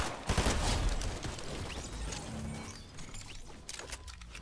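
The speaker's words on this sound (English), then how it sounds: "This is so much shooting." Gunfire in the video game Fortnite, a dense burst of rapid shots with sharp cracks early on, thinning into scattered shots and clatter over a few seconds.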